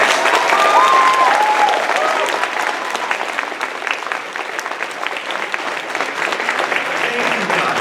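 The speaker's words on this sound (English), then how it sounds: "Everyone, give them a round of applause." A large convention crowd at an anime event's closing ceremony gives sustained, loud applause for twenty-year veterans, a steady wash of clapping with scattered cheers over several seconds.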